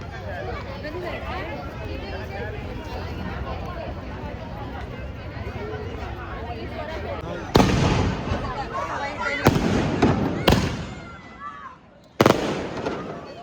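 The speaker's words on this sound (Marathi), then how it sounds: "त्यानिमित्त भरपूर फटाके फोडत आहेत" Firecrackers and fireworks burst at a Gudi Padwa celebration outside a Ganpati temple in Dombivali, with several loud, sharp bangs and crackling runs coming after a stretch of steady crowd chatter and background noise.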